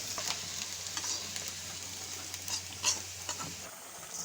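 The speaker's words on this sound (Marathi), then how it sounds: "मी आता हे खोबरं भाजायला टाकलेलं आहे" Grated coconut roasting in a dry pan for a mutton curry masala, with a soft continuous sizzle and repeated spatula scrapes and taps as it is stirred, heard close and fairly quiet.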